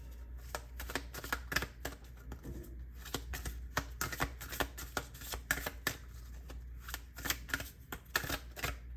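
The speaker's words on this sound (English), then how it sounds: "I'm shuffling now, you know what I'm saying?" Tarot cards are shuffled close up in a quiet room, a rapid, irregular run of soft riffling and flicking taps lasting several seconds without speech.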